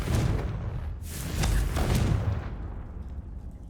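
A Confringo blasting curse explodes in Hogwarts Legacy, a loud booming blast with a heavy low rumble followed by a second burst around the middle, then fading into a quieter tail.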